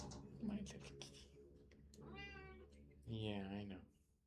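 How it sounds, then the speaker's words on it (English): A cat meows indoors in two drawn-out, wavering calls spaced a second apart, close and fairly clear, with a person speaking softly around them. "My little kitty."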